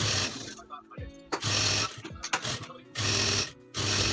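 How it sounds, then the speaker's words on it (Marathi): Sewing machine stitching a silk blouse sleeve, three close bursts of rapid mechanical whirring separated by pauses with handling clicks, someone speaking between runs. "आता मधोमध काट ठेवून घ्यायचा आहे आणि शिलाई करून घ्यायची."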